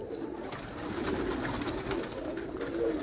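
Racing pigeon, a prized hen, cooing in a loft; soft, low murmuring coos repeat steadily across the moment amid a busy background, with no voices.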